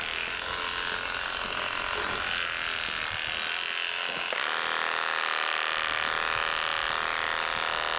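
Electric shears buzz steadily and loudly at close range while shearing a sheep on a farm, a continuous motor whine that shifts tone as the blades move through the wool, with no talk.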